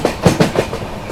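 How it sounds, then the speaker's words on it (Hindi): The Lucknow–New Delhi Swarna Shatabdi Express rolls past close by, its wheels beating a loud, quick clickety-clack rhythm over the rail joints. "ये रही आप लोगों की लखनऊ नई दिल्ली स्वर्ण शताब्दी एक्सप्रेस"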